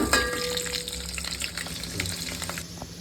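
Garlic frying in hot oil after mustard seeds, a continuous sizzle with crackling pops and a few stirring clinks, close and moderately loud, nobody speaking.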